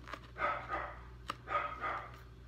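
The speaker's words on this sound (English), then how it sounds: "sorry, my dog's barking" A pet dog barks in two pairs of quick, mid-pitched woofs indoors, fairly close, with a faint click between them and a low electrical hum underneath.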